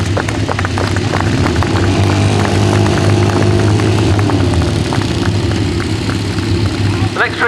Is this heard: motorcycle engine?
yes